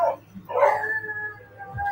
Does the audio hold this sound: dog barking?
yes